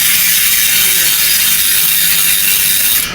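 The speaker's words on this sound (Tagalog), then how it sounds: "Ratchet type din to. Ito medyo maingay din to sir." A Saturn Dion ratchet-type bicycle hub, in center-lock or bolt-type form, clicks loudly as it spins, giving a dense, steady, rapid ratcheting buzz that stays close and constant before tapering off slightly at the end.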